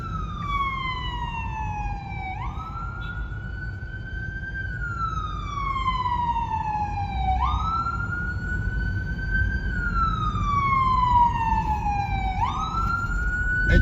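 Emergency vehicle siren wailing through New York City traffic, rising and falling in long repeated sweeps, loud and close over a steady rumble of street noise.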